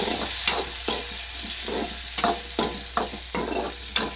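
Chutney sizzles steadily in a hot pan while a utensil scrapes and stirs in regular strokes, close and fairly loud, with no voices.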